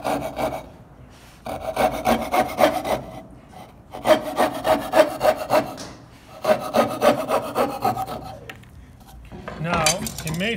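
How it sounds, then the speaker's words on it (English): Coping saw cutting through wood to clear waste from a dovetail joint, close and distinct, in three rhythmic bursts of rasping strokes separated by short pauses, with a brief different scraping sound at the end. "get the coping saw down there, begin sawing"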